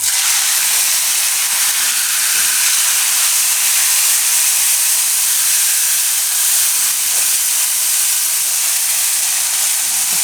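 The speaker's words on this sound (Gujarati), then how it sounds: "હવે એમાં નાખશું આપણે ટમેટાં." Tomatoes added to hot oil with chillies, curry leaves and asafoetida hiss and sizzle steadily at close range, a loud, unbroken frying noise with no pauses.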